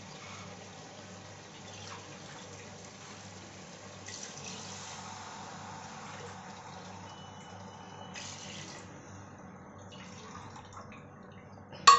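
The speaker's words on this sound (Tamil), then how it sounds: "தண்ணி ஊற்றிக்கிறேன்." Water pours into a cooking pot holding rice and milk for quail biryani, a faint continuous trickle with a few small splashes and clinks, ending in a sharp knock.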